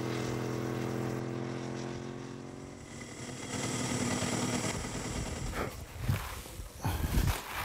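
A race motorcycle engine drones steadily on a circuit, its pitch shifting as it passes, then fades into rougher, bursty revving and rumble toward the end.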